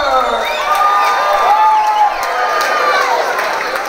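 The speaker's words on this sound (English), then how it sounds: "Give a big round of applause for the challenger, Joel Porter." Fight-night crowd at an MMA and Muay Thai event cheering and clapping for the challenger Joel Porter, loud shouts and whoops rising over steady applause throughout.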